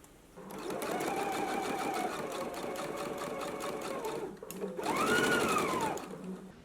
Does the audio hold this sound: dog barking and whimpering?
no